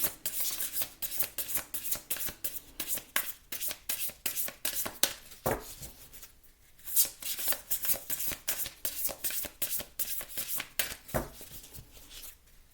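Tarot cards are shuffled by hand in repeated rubbing, riffling strokes, close and fairly quiet, with brief pauses between bursts and no talking.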